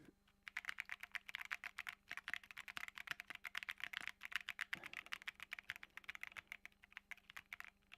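Rapid, steady clacking of keys on a computer keyboard used in a Mac setup, close and quiet, a dense run of crisp strokes with no one talking.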